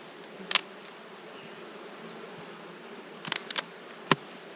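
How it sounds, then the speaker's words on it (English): Faint, steady honey bee buzzing from a hive box with a few brief louder passes close by, bees droning quietly throughout. "Another good looking box of bees."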